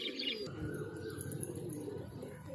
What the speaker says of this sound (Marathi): तुम्हाला माझी पूर्ण कबूतर दाखवतो मित्रांनो.